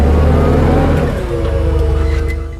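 A 1978 Ford F-250 truck engine revs up loudly nearby, then its pitch shifts as it settles back, a short, strong burst of engine sound.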